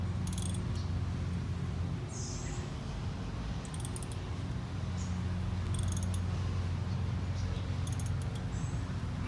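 A ratchet tightens brake caliper bolts by hand on a 2005-2010 Jeep Grand Cherokee WK, giving short bursts of clicking spaced a couple of seconds apart over a steady low background rumble.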